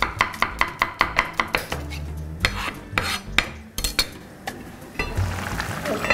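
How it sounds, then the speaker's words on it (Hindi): Onions finely chopped with a knife on a board for a mughlai moong dal, a quick run of crisp close knife taps, then pauses and further bursts of chopping with faint kitchen clatter. "2 बारीक कटे हुए प्याज, जितना बारीक प्याज आप काट सकते हैं उतना बारीक।"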